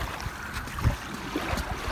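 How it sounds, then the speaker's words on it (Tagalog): Seaside at Safety Bay, Rockingham in Western Australia, with a steady wash of waves and wind noise filling the air, fairly loud and continuous with a few soft gusty bumps and no talking. "Dito sa tabing dagat, magpapahangin tayo."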